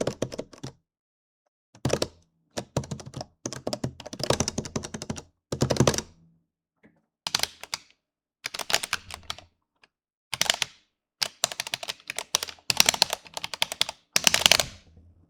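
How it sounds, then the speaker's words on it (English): Arcade fight-stick buttons on a HitBox Ultra and a Victrix Pro KO, pressed in quick bursts of sharp plastic clicks separated by short silences, with no game sound or voices. "No game audio, just the buttons, just to give you an idea of what the controllers sound like."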